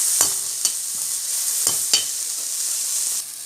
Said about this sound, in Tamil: இப்போ தக்காளி நல்லா வதங்கியாச்சு